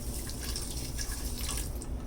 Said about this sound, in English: Put half a cup of water